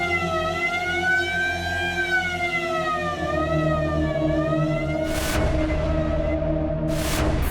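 An ambulance siren in a crime drama scene wails continuously, steady and fairly loud, with pitch that rises and falls slightly and a couple of short noise bursts near the end.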